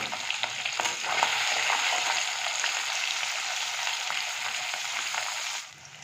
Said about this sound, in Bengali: তেল গরম হয়ে গেছে, এবার দিয়ে দিচ্ছি ট্যাংরা মাছের টমেটো। মাছগুলোকে এইভাবে আমি ভেজে নিয়ে আসছি।